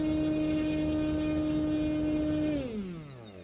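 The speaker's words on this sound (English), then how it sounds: "Dave has got an 80 amp Hobbywing Platinum V4 ESC, and he's running a 16x8 prop up front" Hobbywing Platinum 41-series electric motor on an 80 amp Platinum V4 ESC, spinning a 16x8 propeller at full throttle with a steady, close tonal whine that drops in pitch and fades as it spins down at the end.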